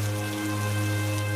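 Heavy rain pours down in a steady, dense hiss with no pauses, loud and close for the whole stretch.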